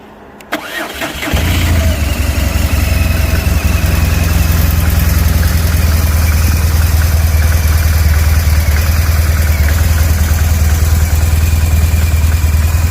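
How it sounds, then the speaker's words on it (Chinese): BMW R1200GS motorcycle with an air-and-oil-cooled 1170cc four-stroke boxer twin cranks over and fires, then settles into a loud, steady, throbbing idle close by, with no voices. "大家听一下发动机声浪"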